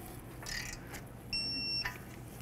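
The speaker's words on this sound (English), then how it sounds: "Let's torque this to 25 foot-pounds." A digital torque wrench set to 25 foot-pounds on a 2007-13 Nissan Altima outer tie rod gives a single short electronic beep at the set torque, close and clear above faint workshop noise.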